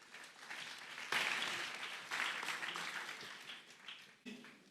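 Audience applause at a talk on financial stewardship and entrepreneurship: a steady wash of clapping that swells and dips over a few seconds, fairly close and filling the room, then breaks off briefly before a last surge.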